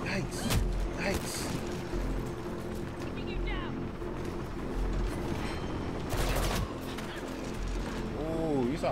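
Enemy gunfire in Mirror's Edge Catalyst rattles in quick bursts of shots amid game sounds, heard under a player's frequent talking.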